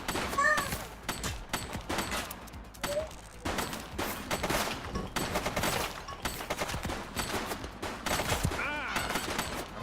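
Gunfire in the police video game The Precinct: repeated sharp shots and short bursts scattered through a busy scene, fairly loud, mixed with voices talking and shouting.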